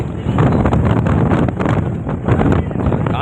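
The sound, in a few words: strong wind blowing at Pamban bridge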